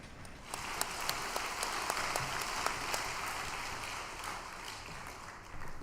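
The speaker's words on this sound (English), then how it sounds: "Let us offer a big round of applause to our True Father." Applause from a large audience at a religious gathering, steady and sustained with a few sharper claps standing out, filling the whole stretch with no talking.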